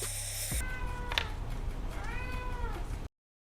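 A cat meows several times, drawn-out and wavering, fairly close, after a brief hiss of canned air at the start.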